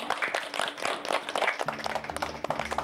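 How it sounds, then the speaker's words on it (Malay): A group of children on a youth Quran-recitation competition show clapping together in quick, uneven bursts, fairly close and moderately loud, continuing for a few seconds. "Tanya, berikan tepukan."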